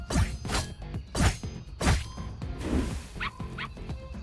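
Cartoonish dog barks from the video game Dave the Diver repeat in a quick rhythm of sharp yaps, interleaved with whooshing swipes and soft thuds, ending with a couple of thinner higher yips.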